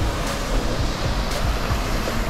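A small stream with a little waterfall flows under a bridge behind a church in Appenzell, Switzerland, giving a continuous, close, rushing wash of water with no talking.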